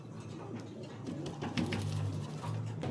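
Teddy pigeons of an imported bloodline coo close by in a steady run of low, throaty, overlapping calls, with no talking.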